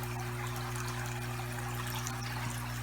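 Water pours steadily into an aquaponics tank, a continuous close trickling stream over a low steady pump hum.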